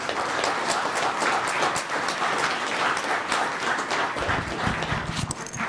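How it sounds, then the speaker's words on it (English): Steady, dense applause from a town council chamber audience, honouring a historic preservation proclamation, sustained and fairly loud throughout with no talk over it. "let's give you a round of applause"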